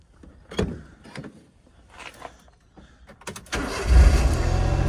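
A Mazda RX-7 being started at a car lot: a few clicks and door thumps, then the engine cranks and catches around the middle, settling into a loud steady idle.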